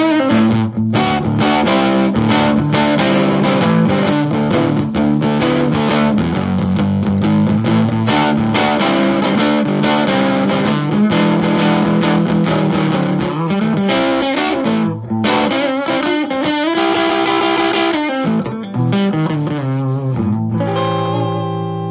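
Electric guitar played through a Lovett Amps Daisy Mae tweed-style amplifier pushed into breakup, loud gritty chords and ringing notes with a crunchy overdriven edge, playing alone and continuously.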